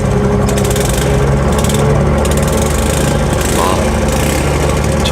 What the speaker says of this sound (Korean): 저 할아버지 오토바이 진짜 시끄러운데